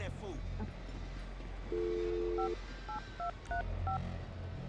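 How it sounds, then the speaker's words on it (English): A phone number dialed on an in-game phone in GTA 5: a long tone followed by a quick run of short keypad beeps, fairly quiet over a low background hum. "I'll dial his phone number right now and see if we can figure out why he just stopped talking to you."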